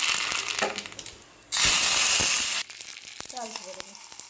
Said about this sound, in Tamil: தாளிச்சிக்கலாம். கடுகு போட்டுக்கலாம்.